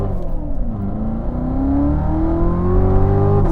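A 2018 Chevrolet Corvette C7 Z06 accelerates hard from inside the cabin, its engine and exhaust rising in pitch through the revs into a deep, steady roar that grows louder, with no talk.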